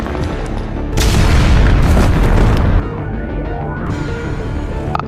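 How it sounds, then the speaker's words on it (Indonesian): Grenades detonate in a room during a violent action film raid, with tear gas thrown in alongside them. A loud, close, roaring blast rumbles for about two seconds, then fades into a lower, lingering rumble. "gas air mata dan granat dilemparkan ke dalam ruangan"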